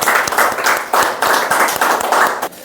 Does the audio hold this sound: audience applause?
yes